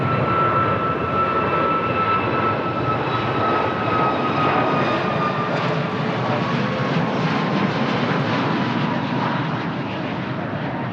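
A LOT Polish Airlines jet airliner in special livery at Lisbon Airport, a steady loud engine roar with faint whining tones that holds throughout and eases slightly near the end, with no voices.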